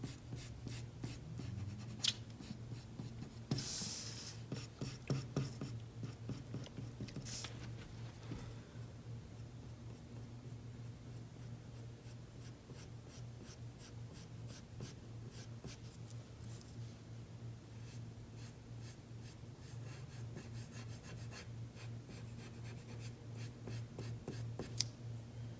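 A pencil shades a 3D letter drawing on paper, a long stretch of quiet, rhythmic scratching strokes, busier and louder in a couple of bursts near the start, over a faint steady hum.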